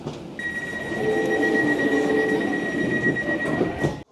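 Train rolling through London toward Farringdon station, with a steady rumble of wheels on track and a sustained high squeal running nearly the whole time, loud and close, no talk.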